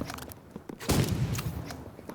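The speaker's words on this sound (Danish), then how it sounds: "jeg skyder ham nu" Rapid gunfire from the Roblox shooter game Rivals, a few sharp shots and then a dense burst of fire, up close and fairly loud against a soft background.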